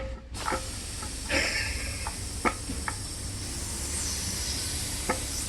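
Compressed air hisses steadily through a valve into a 2-liter plastic bottle and leaks at the fitting, a loud continuous hiss with a few faint clicks and knocks over it.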